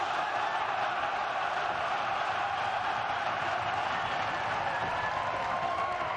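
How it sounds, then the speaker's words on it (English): A fight crowd roars steadily in support of kickboxer Mark Hunt, a dense, continuous wash of cheering and clapping that fills the arena without a break. "And this crowd is into the action early"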